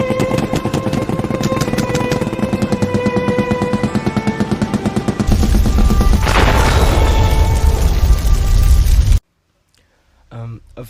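Rapid bursts of gunfire in a staged film scene, loud and dense over music and voices, ending abruptly in near silence with a faint sound near the end.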